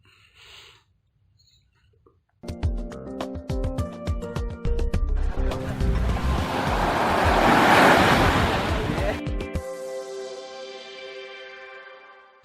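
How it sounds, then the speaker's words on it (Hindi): Ocean waves on the beach at Dwarka, a steady broad wash of surf that swells toward the middle, with tonal music layered over it and a little wind noise. "एक तरफ सुंदर बीच है जिसमें लोग समुद्र की लहरों का आनंद लेते हैं"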